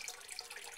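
Water running in a flooded basement, a brief, faint trickle and splash with bright, bubbling texture and nothing else heard.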